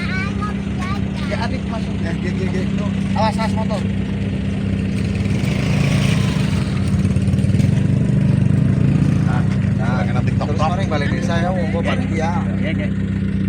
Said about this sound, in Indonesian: Ya, awas motor.